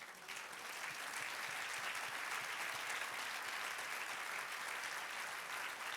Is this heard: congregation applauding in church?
yes